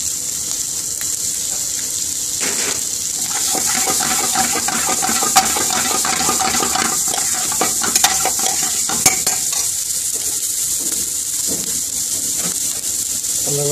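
Sugar is stirred into Kashmiri pilau rice frying in an Indian restaurant pan, giving a steady bright sizzle with intermittent scraping and clinking stir strokes throughout.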